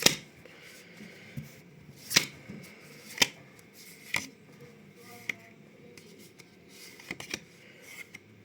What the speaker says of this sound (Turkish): Şimdi bunu ters çevirip birkaç tane kart açacağım.